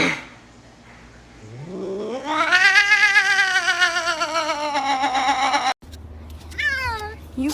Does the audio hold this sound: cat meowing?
yes